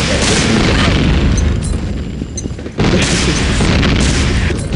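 A loud grenade blast in a first-person shooter game booms out, drops briefly, then a second heavy explosion hits with a rumbling tail.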